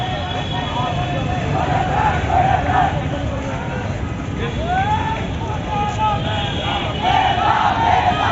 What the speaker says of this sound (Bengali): অবরোধ আন্দোলন থেকে শিক্ষার্থীরা বিভিন্ন স্লোগান দিয়ে যাচ্ছেন